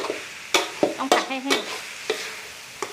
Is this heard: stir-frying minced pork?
yes